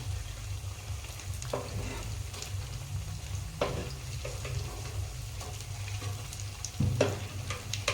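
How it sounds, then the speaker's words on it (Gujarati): Sabudana vada sizzling steadily in hot oil as the pieces are flipped, with a constant close frying hiss and scattered small scraping clicks from the turning. "હવે આપણે વડા બીજી બાજુ ફેરવી દઈએ."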